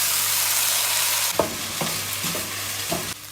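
Freekeh frying with chopped onion and garlic in olive oil, a steady broadband sizzle throughout, with a few soft stirring scrapes and clacks of a spoon in the pan partway through.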